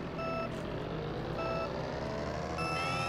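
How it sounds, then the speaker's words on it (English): Starting traffic-light beeps in Super Mario Kart on the SNES, three evenly spaced electronic tones over steady engine drone, the last one higher and longer. "after like the one beep with the traffic light where Lakitu holds"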